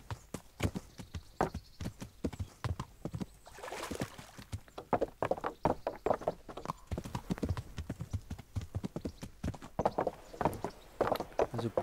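A fast horse gallops in the medieval video game Kingdom Come Deliverance, rapid rhythmic hoof clops running steadily throughout at moderate volume, with someone talking over it at times.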